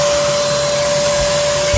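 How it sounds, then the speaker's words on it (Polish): A vacuum cleaner runs with a steady, loud, continuous whine and roar, a constant drone with no breaks, heard alone without talking. "Odkurzaczyk jak ta lala."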